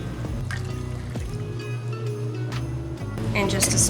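A cup of milk pours into a dish of bread for a Christmas breakfast bake, a close liquid trickle and gurgle that brightens toward the end as it fills, with no speech over it.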